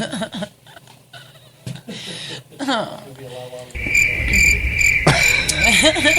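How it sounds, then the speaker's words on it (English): A cricket chirping sound effect plays on a talk radio show, a steady high trill that starts partway through and keeps going to the end, loud and close after a stretch of mixed noise and voice-like sounds. "And then the crickets."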